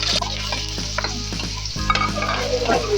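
Garlic sizzles in a little oil in a pan, a close, steady crackling hiss broken by several scraping stirs, with a low hum underneath.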